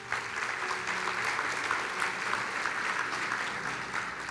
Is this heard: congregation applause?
yes